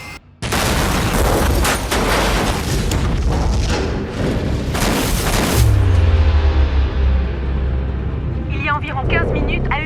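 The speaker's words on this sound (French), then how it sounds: "Il y a environ 15 minutes a eu lieu une intense fusillade puis une violente explosion." Gunfire and explosions from a movie trailer hit in a dense, loud barrage, with rapid cracks and booming blasts, then a deep rumbling boom swells midway as the firing carries on.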